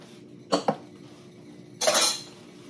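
A spoon stirs Nespresso coffee in a cup, two quick clinks against the rim followed by a longer scraping swirl, close and fairly quiet with no talk.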